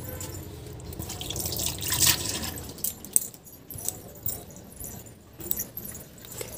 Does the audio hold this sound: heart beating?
no